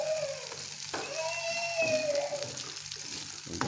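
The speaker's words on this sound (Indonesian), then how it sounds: "Iki goreng urang grago iki." Small rebon shrimp frying in a pan, a close, steady sizzle with crackles and light stirring scrapes throughout, no talking.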